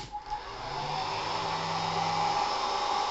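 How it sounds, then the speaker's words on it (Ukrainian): A hair dryer on its first speed setting, powered by a 12V-to-220V sine-wave inverter, switches on and runs with a steady, loud whirring hum and airy rush, holding an even pitch throughout. "Поки що навантажувати буду феном"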